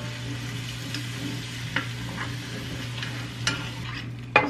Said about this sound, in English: I'm just scraping the bottom. I want to get all those cooked bits off of the bottom.